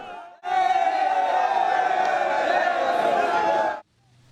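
A crowd of residents erupts in loud cheering and shouting during flooding in Mokwa, Nigeria, as a woman and child are rescued by rope, a sustained roar lasting a few seconds before cutting off abruptly.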